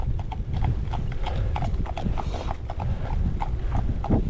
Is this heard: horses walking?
yes